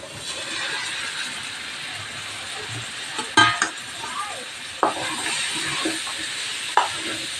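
Food sizzles and hisses in a hot pan while a spoon scrapes and clinks against it several times at an unhurried pace, stir-frying cowpea (thattaikai) poriyal.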